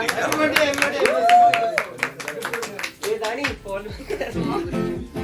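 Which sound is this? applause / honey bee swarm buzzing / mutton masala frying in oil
applause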